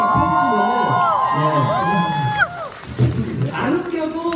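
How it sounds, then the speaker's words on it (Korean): A crowd at a taping of a Korean music show cheers and whoops loudly, with high shouted voices rising and falling close by for a few seconds. "안 웃겨도 박수 쳐주시고 웃겨도 더 박수 쳐주시고"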